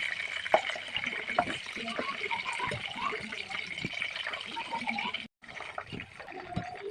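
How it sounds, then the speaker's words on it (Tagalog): Chicken frying in hot oil in a home kitchen, a steady close crackling sizzle with scattered pops, running continuously with a brief dropout near the end; a voice talks over it. "It's time to fry guys."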